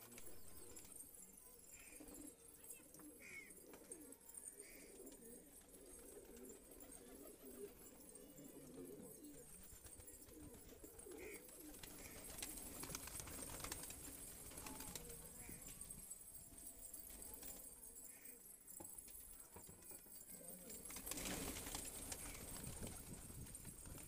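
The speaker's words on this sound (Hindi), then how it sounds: "ये देखें माशाल्लाह एक कबूतर आ गया हमारे उस्ताद के यहाँ पर" Pigeons at a loft for Patiala pigeons, with soft cooing and bird calls over ongoing background chatter and outdoor noise, plus a louder burst near the end that may be wing flapping.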